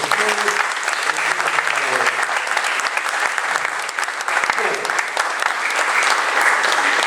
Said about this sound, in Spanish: Así que yo también les pido un aplauso para ellos